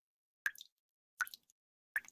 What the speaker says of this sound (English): Water's coming from the ceiling!